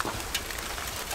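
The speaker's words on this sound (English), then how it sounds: "Now comes the rain, so we have to move fast." Rain falling outdoors at an overnight camp by a Viking-style house where meat is being cooked, a brief, steady hiss of drops on surfaces.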